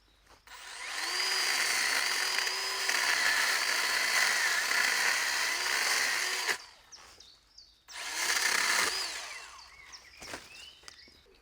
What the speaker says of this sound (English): The freehand cut works really well, not least because the chainsaw is very compact and lightweight.